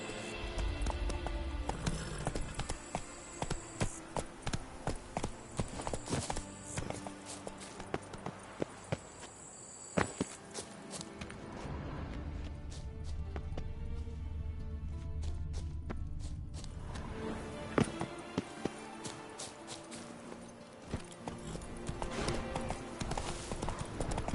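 Roach the horse gallops in Witcher 3, steady rapid hoofbeats clip-clopping close and loud over a dense game soundscape, easing briefly before picking back up, with no talk.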